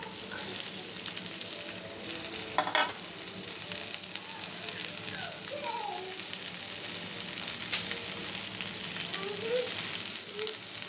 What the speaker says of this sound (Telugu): వేసినడా వెజిటేబుల్స్ బాగా వేగనిద్దాం